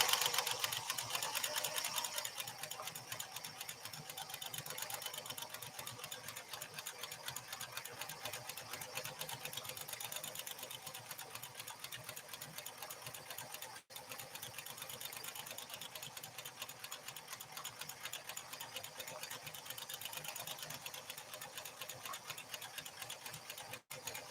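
A Pfaff 360 sewing machine stitches through leather with a steady, rapid mechanical clatter. The rhythm runs continuously at a moderate, close level, with a brief hitch near the middle.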